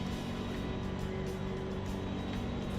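Racing car engine in a racing video game, a loud continuous droning roar as a rival closes in from behind in the slipstream, with no gaps or pauses.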